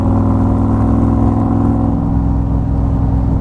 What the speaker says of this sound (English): Great exhaust note from that Roush fuel injected V8. Side pipes, really hear them well.